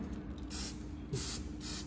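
A few short bursts of aerosol fabric protector spray hiss, each lasting a fraction of a second, close up and fairly quiet.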